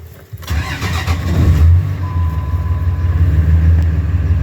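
A truck engine with about 251,000 miles and a worn throwout bearing starts and settles into a steady, low idle rumble close by, with no voices.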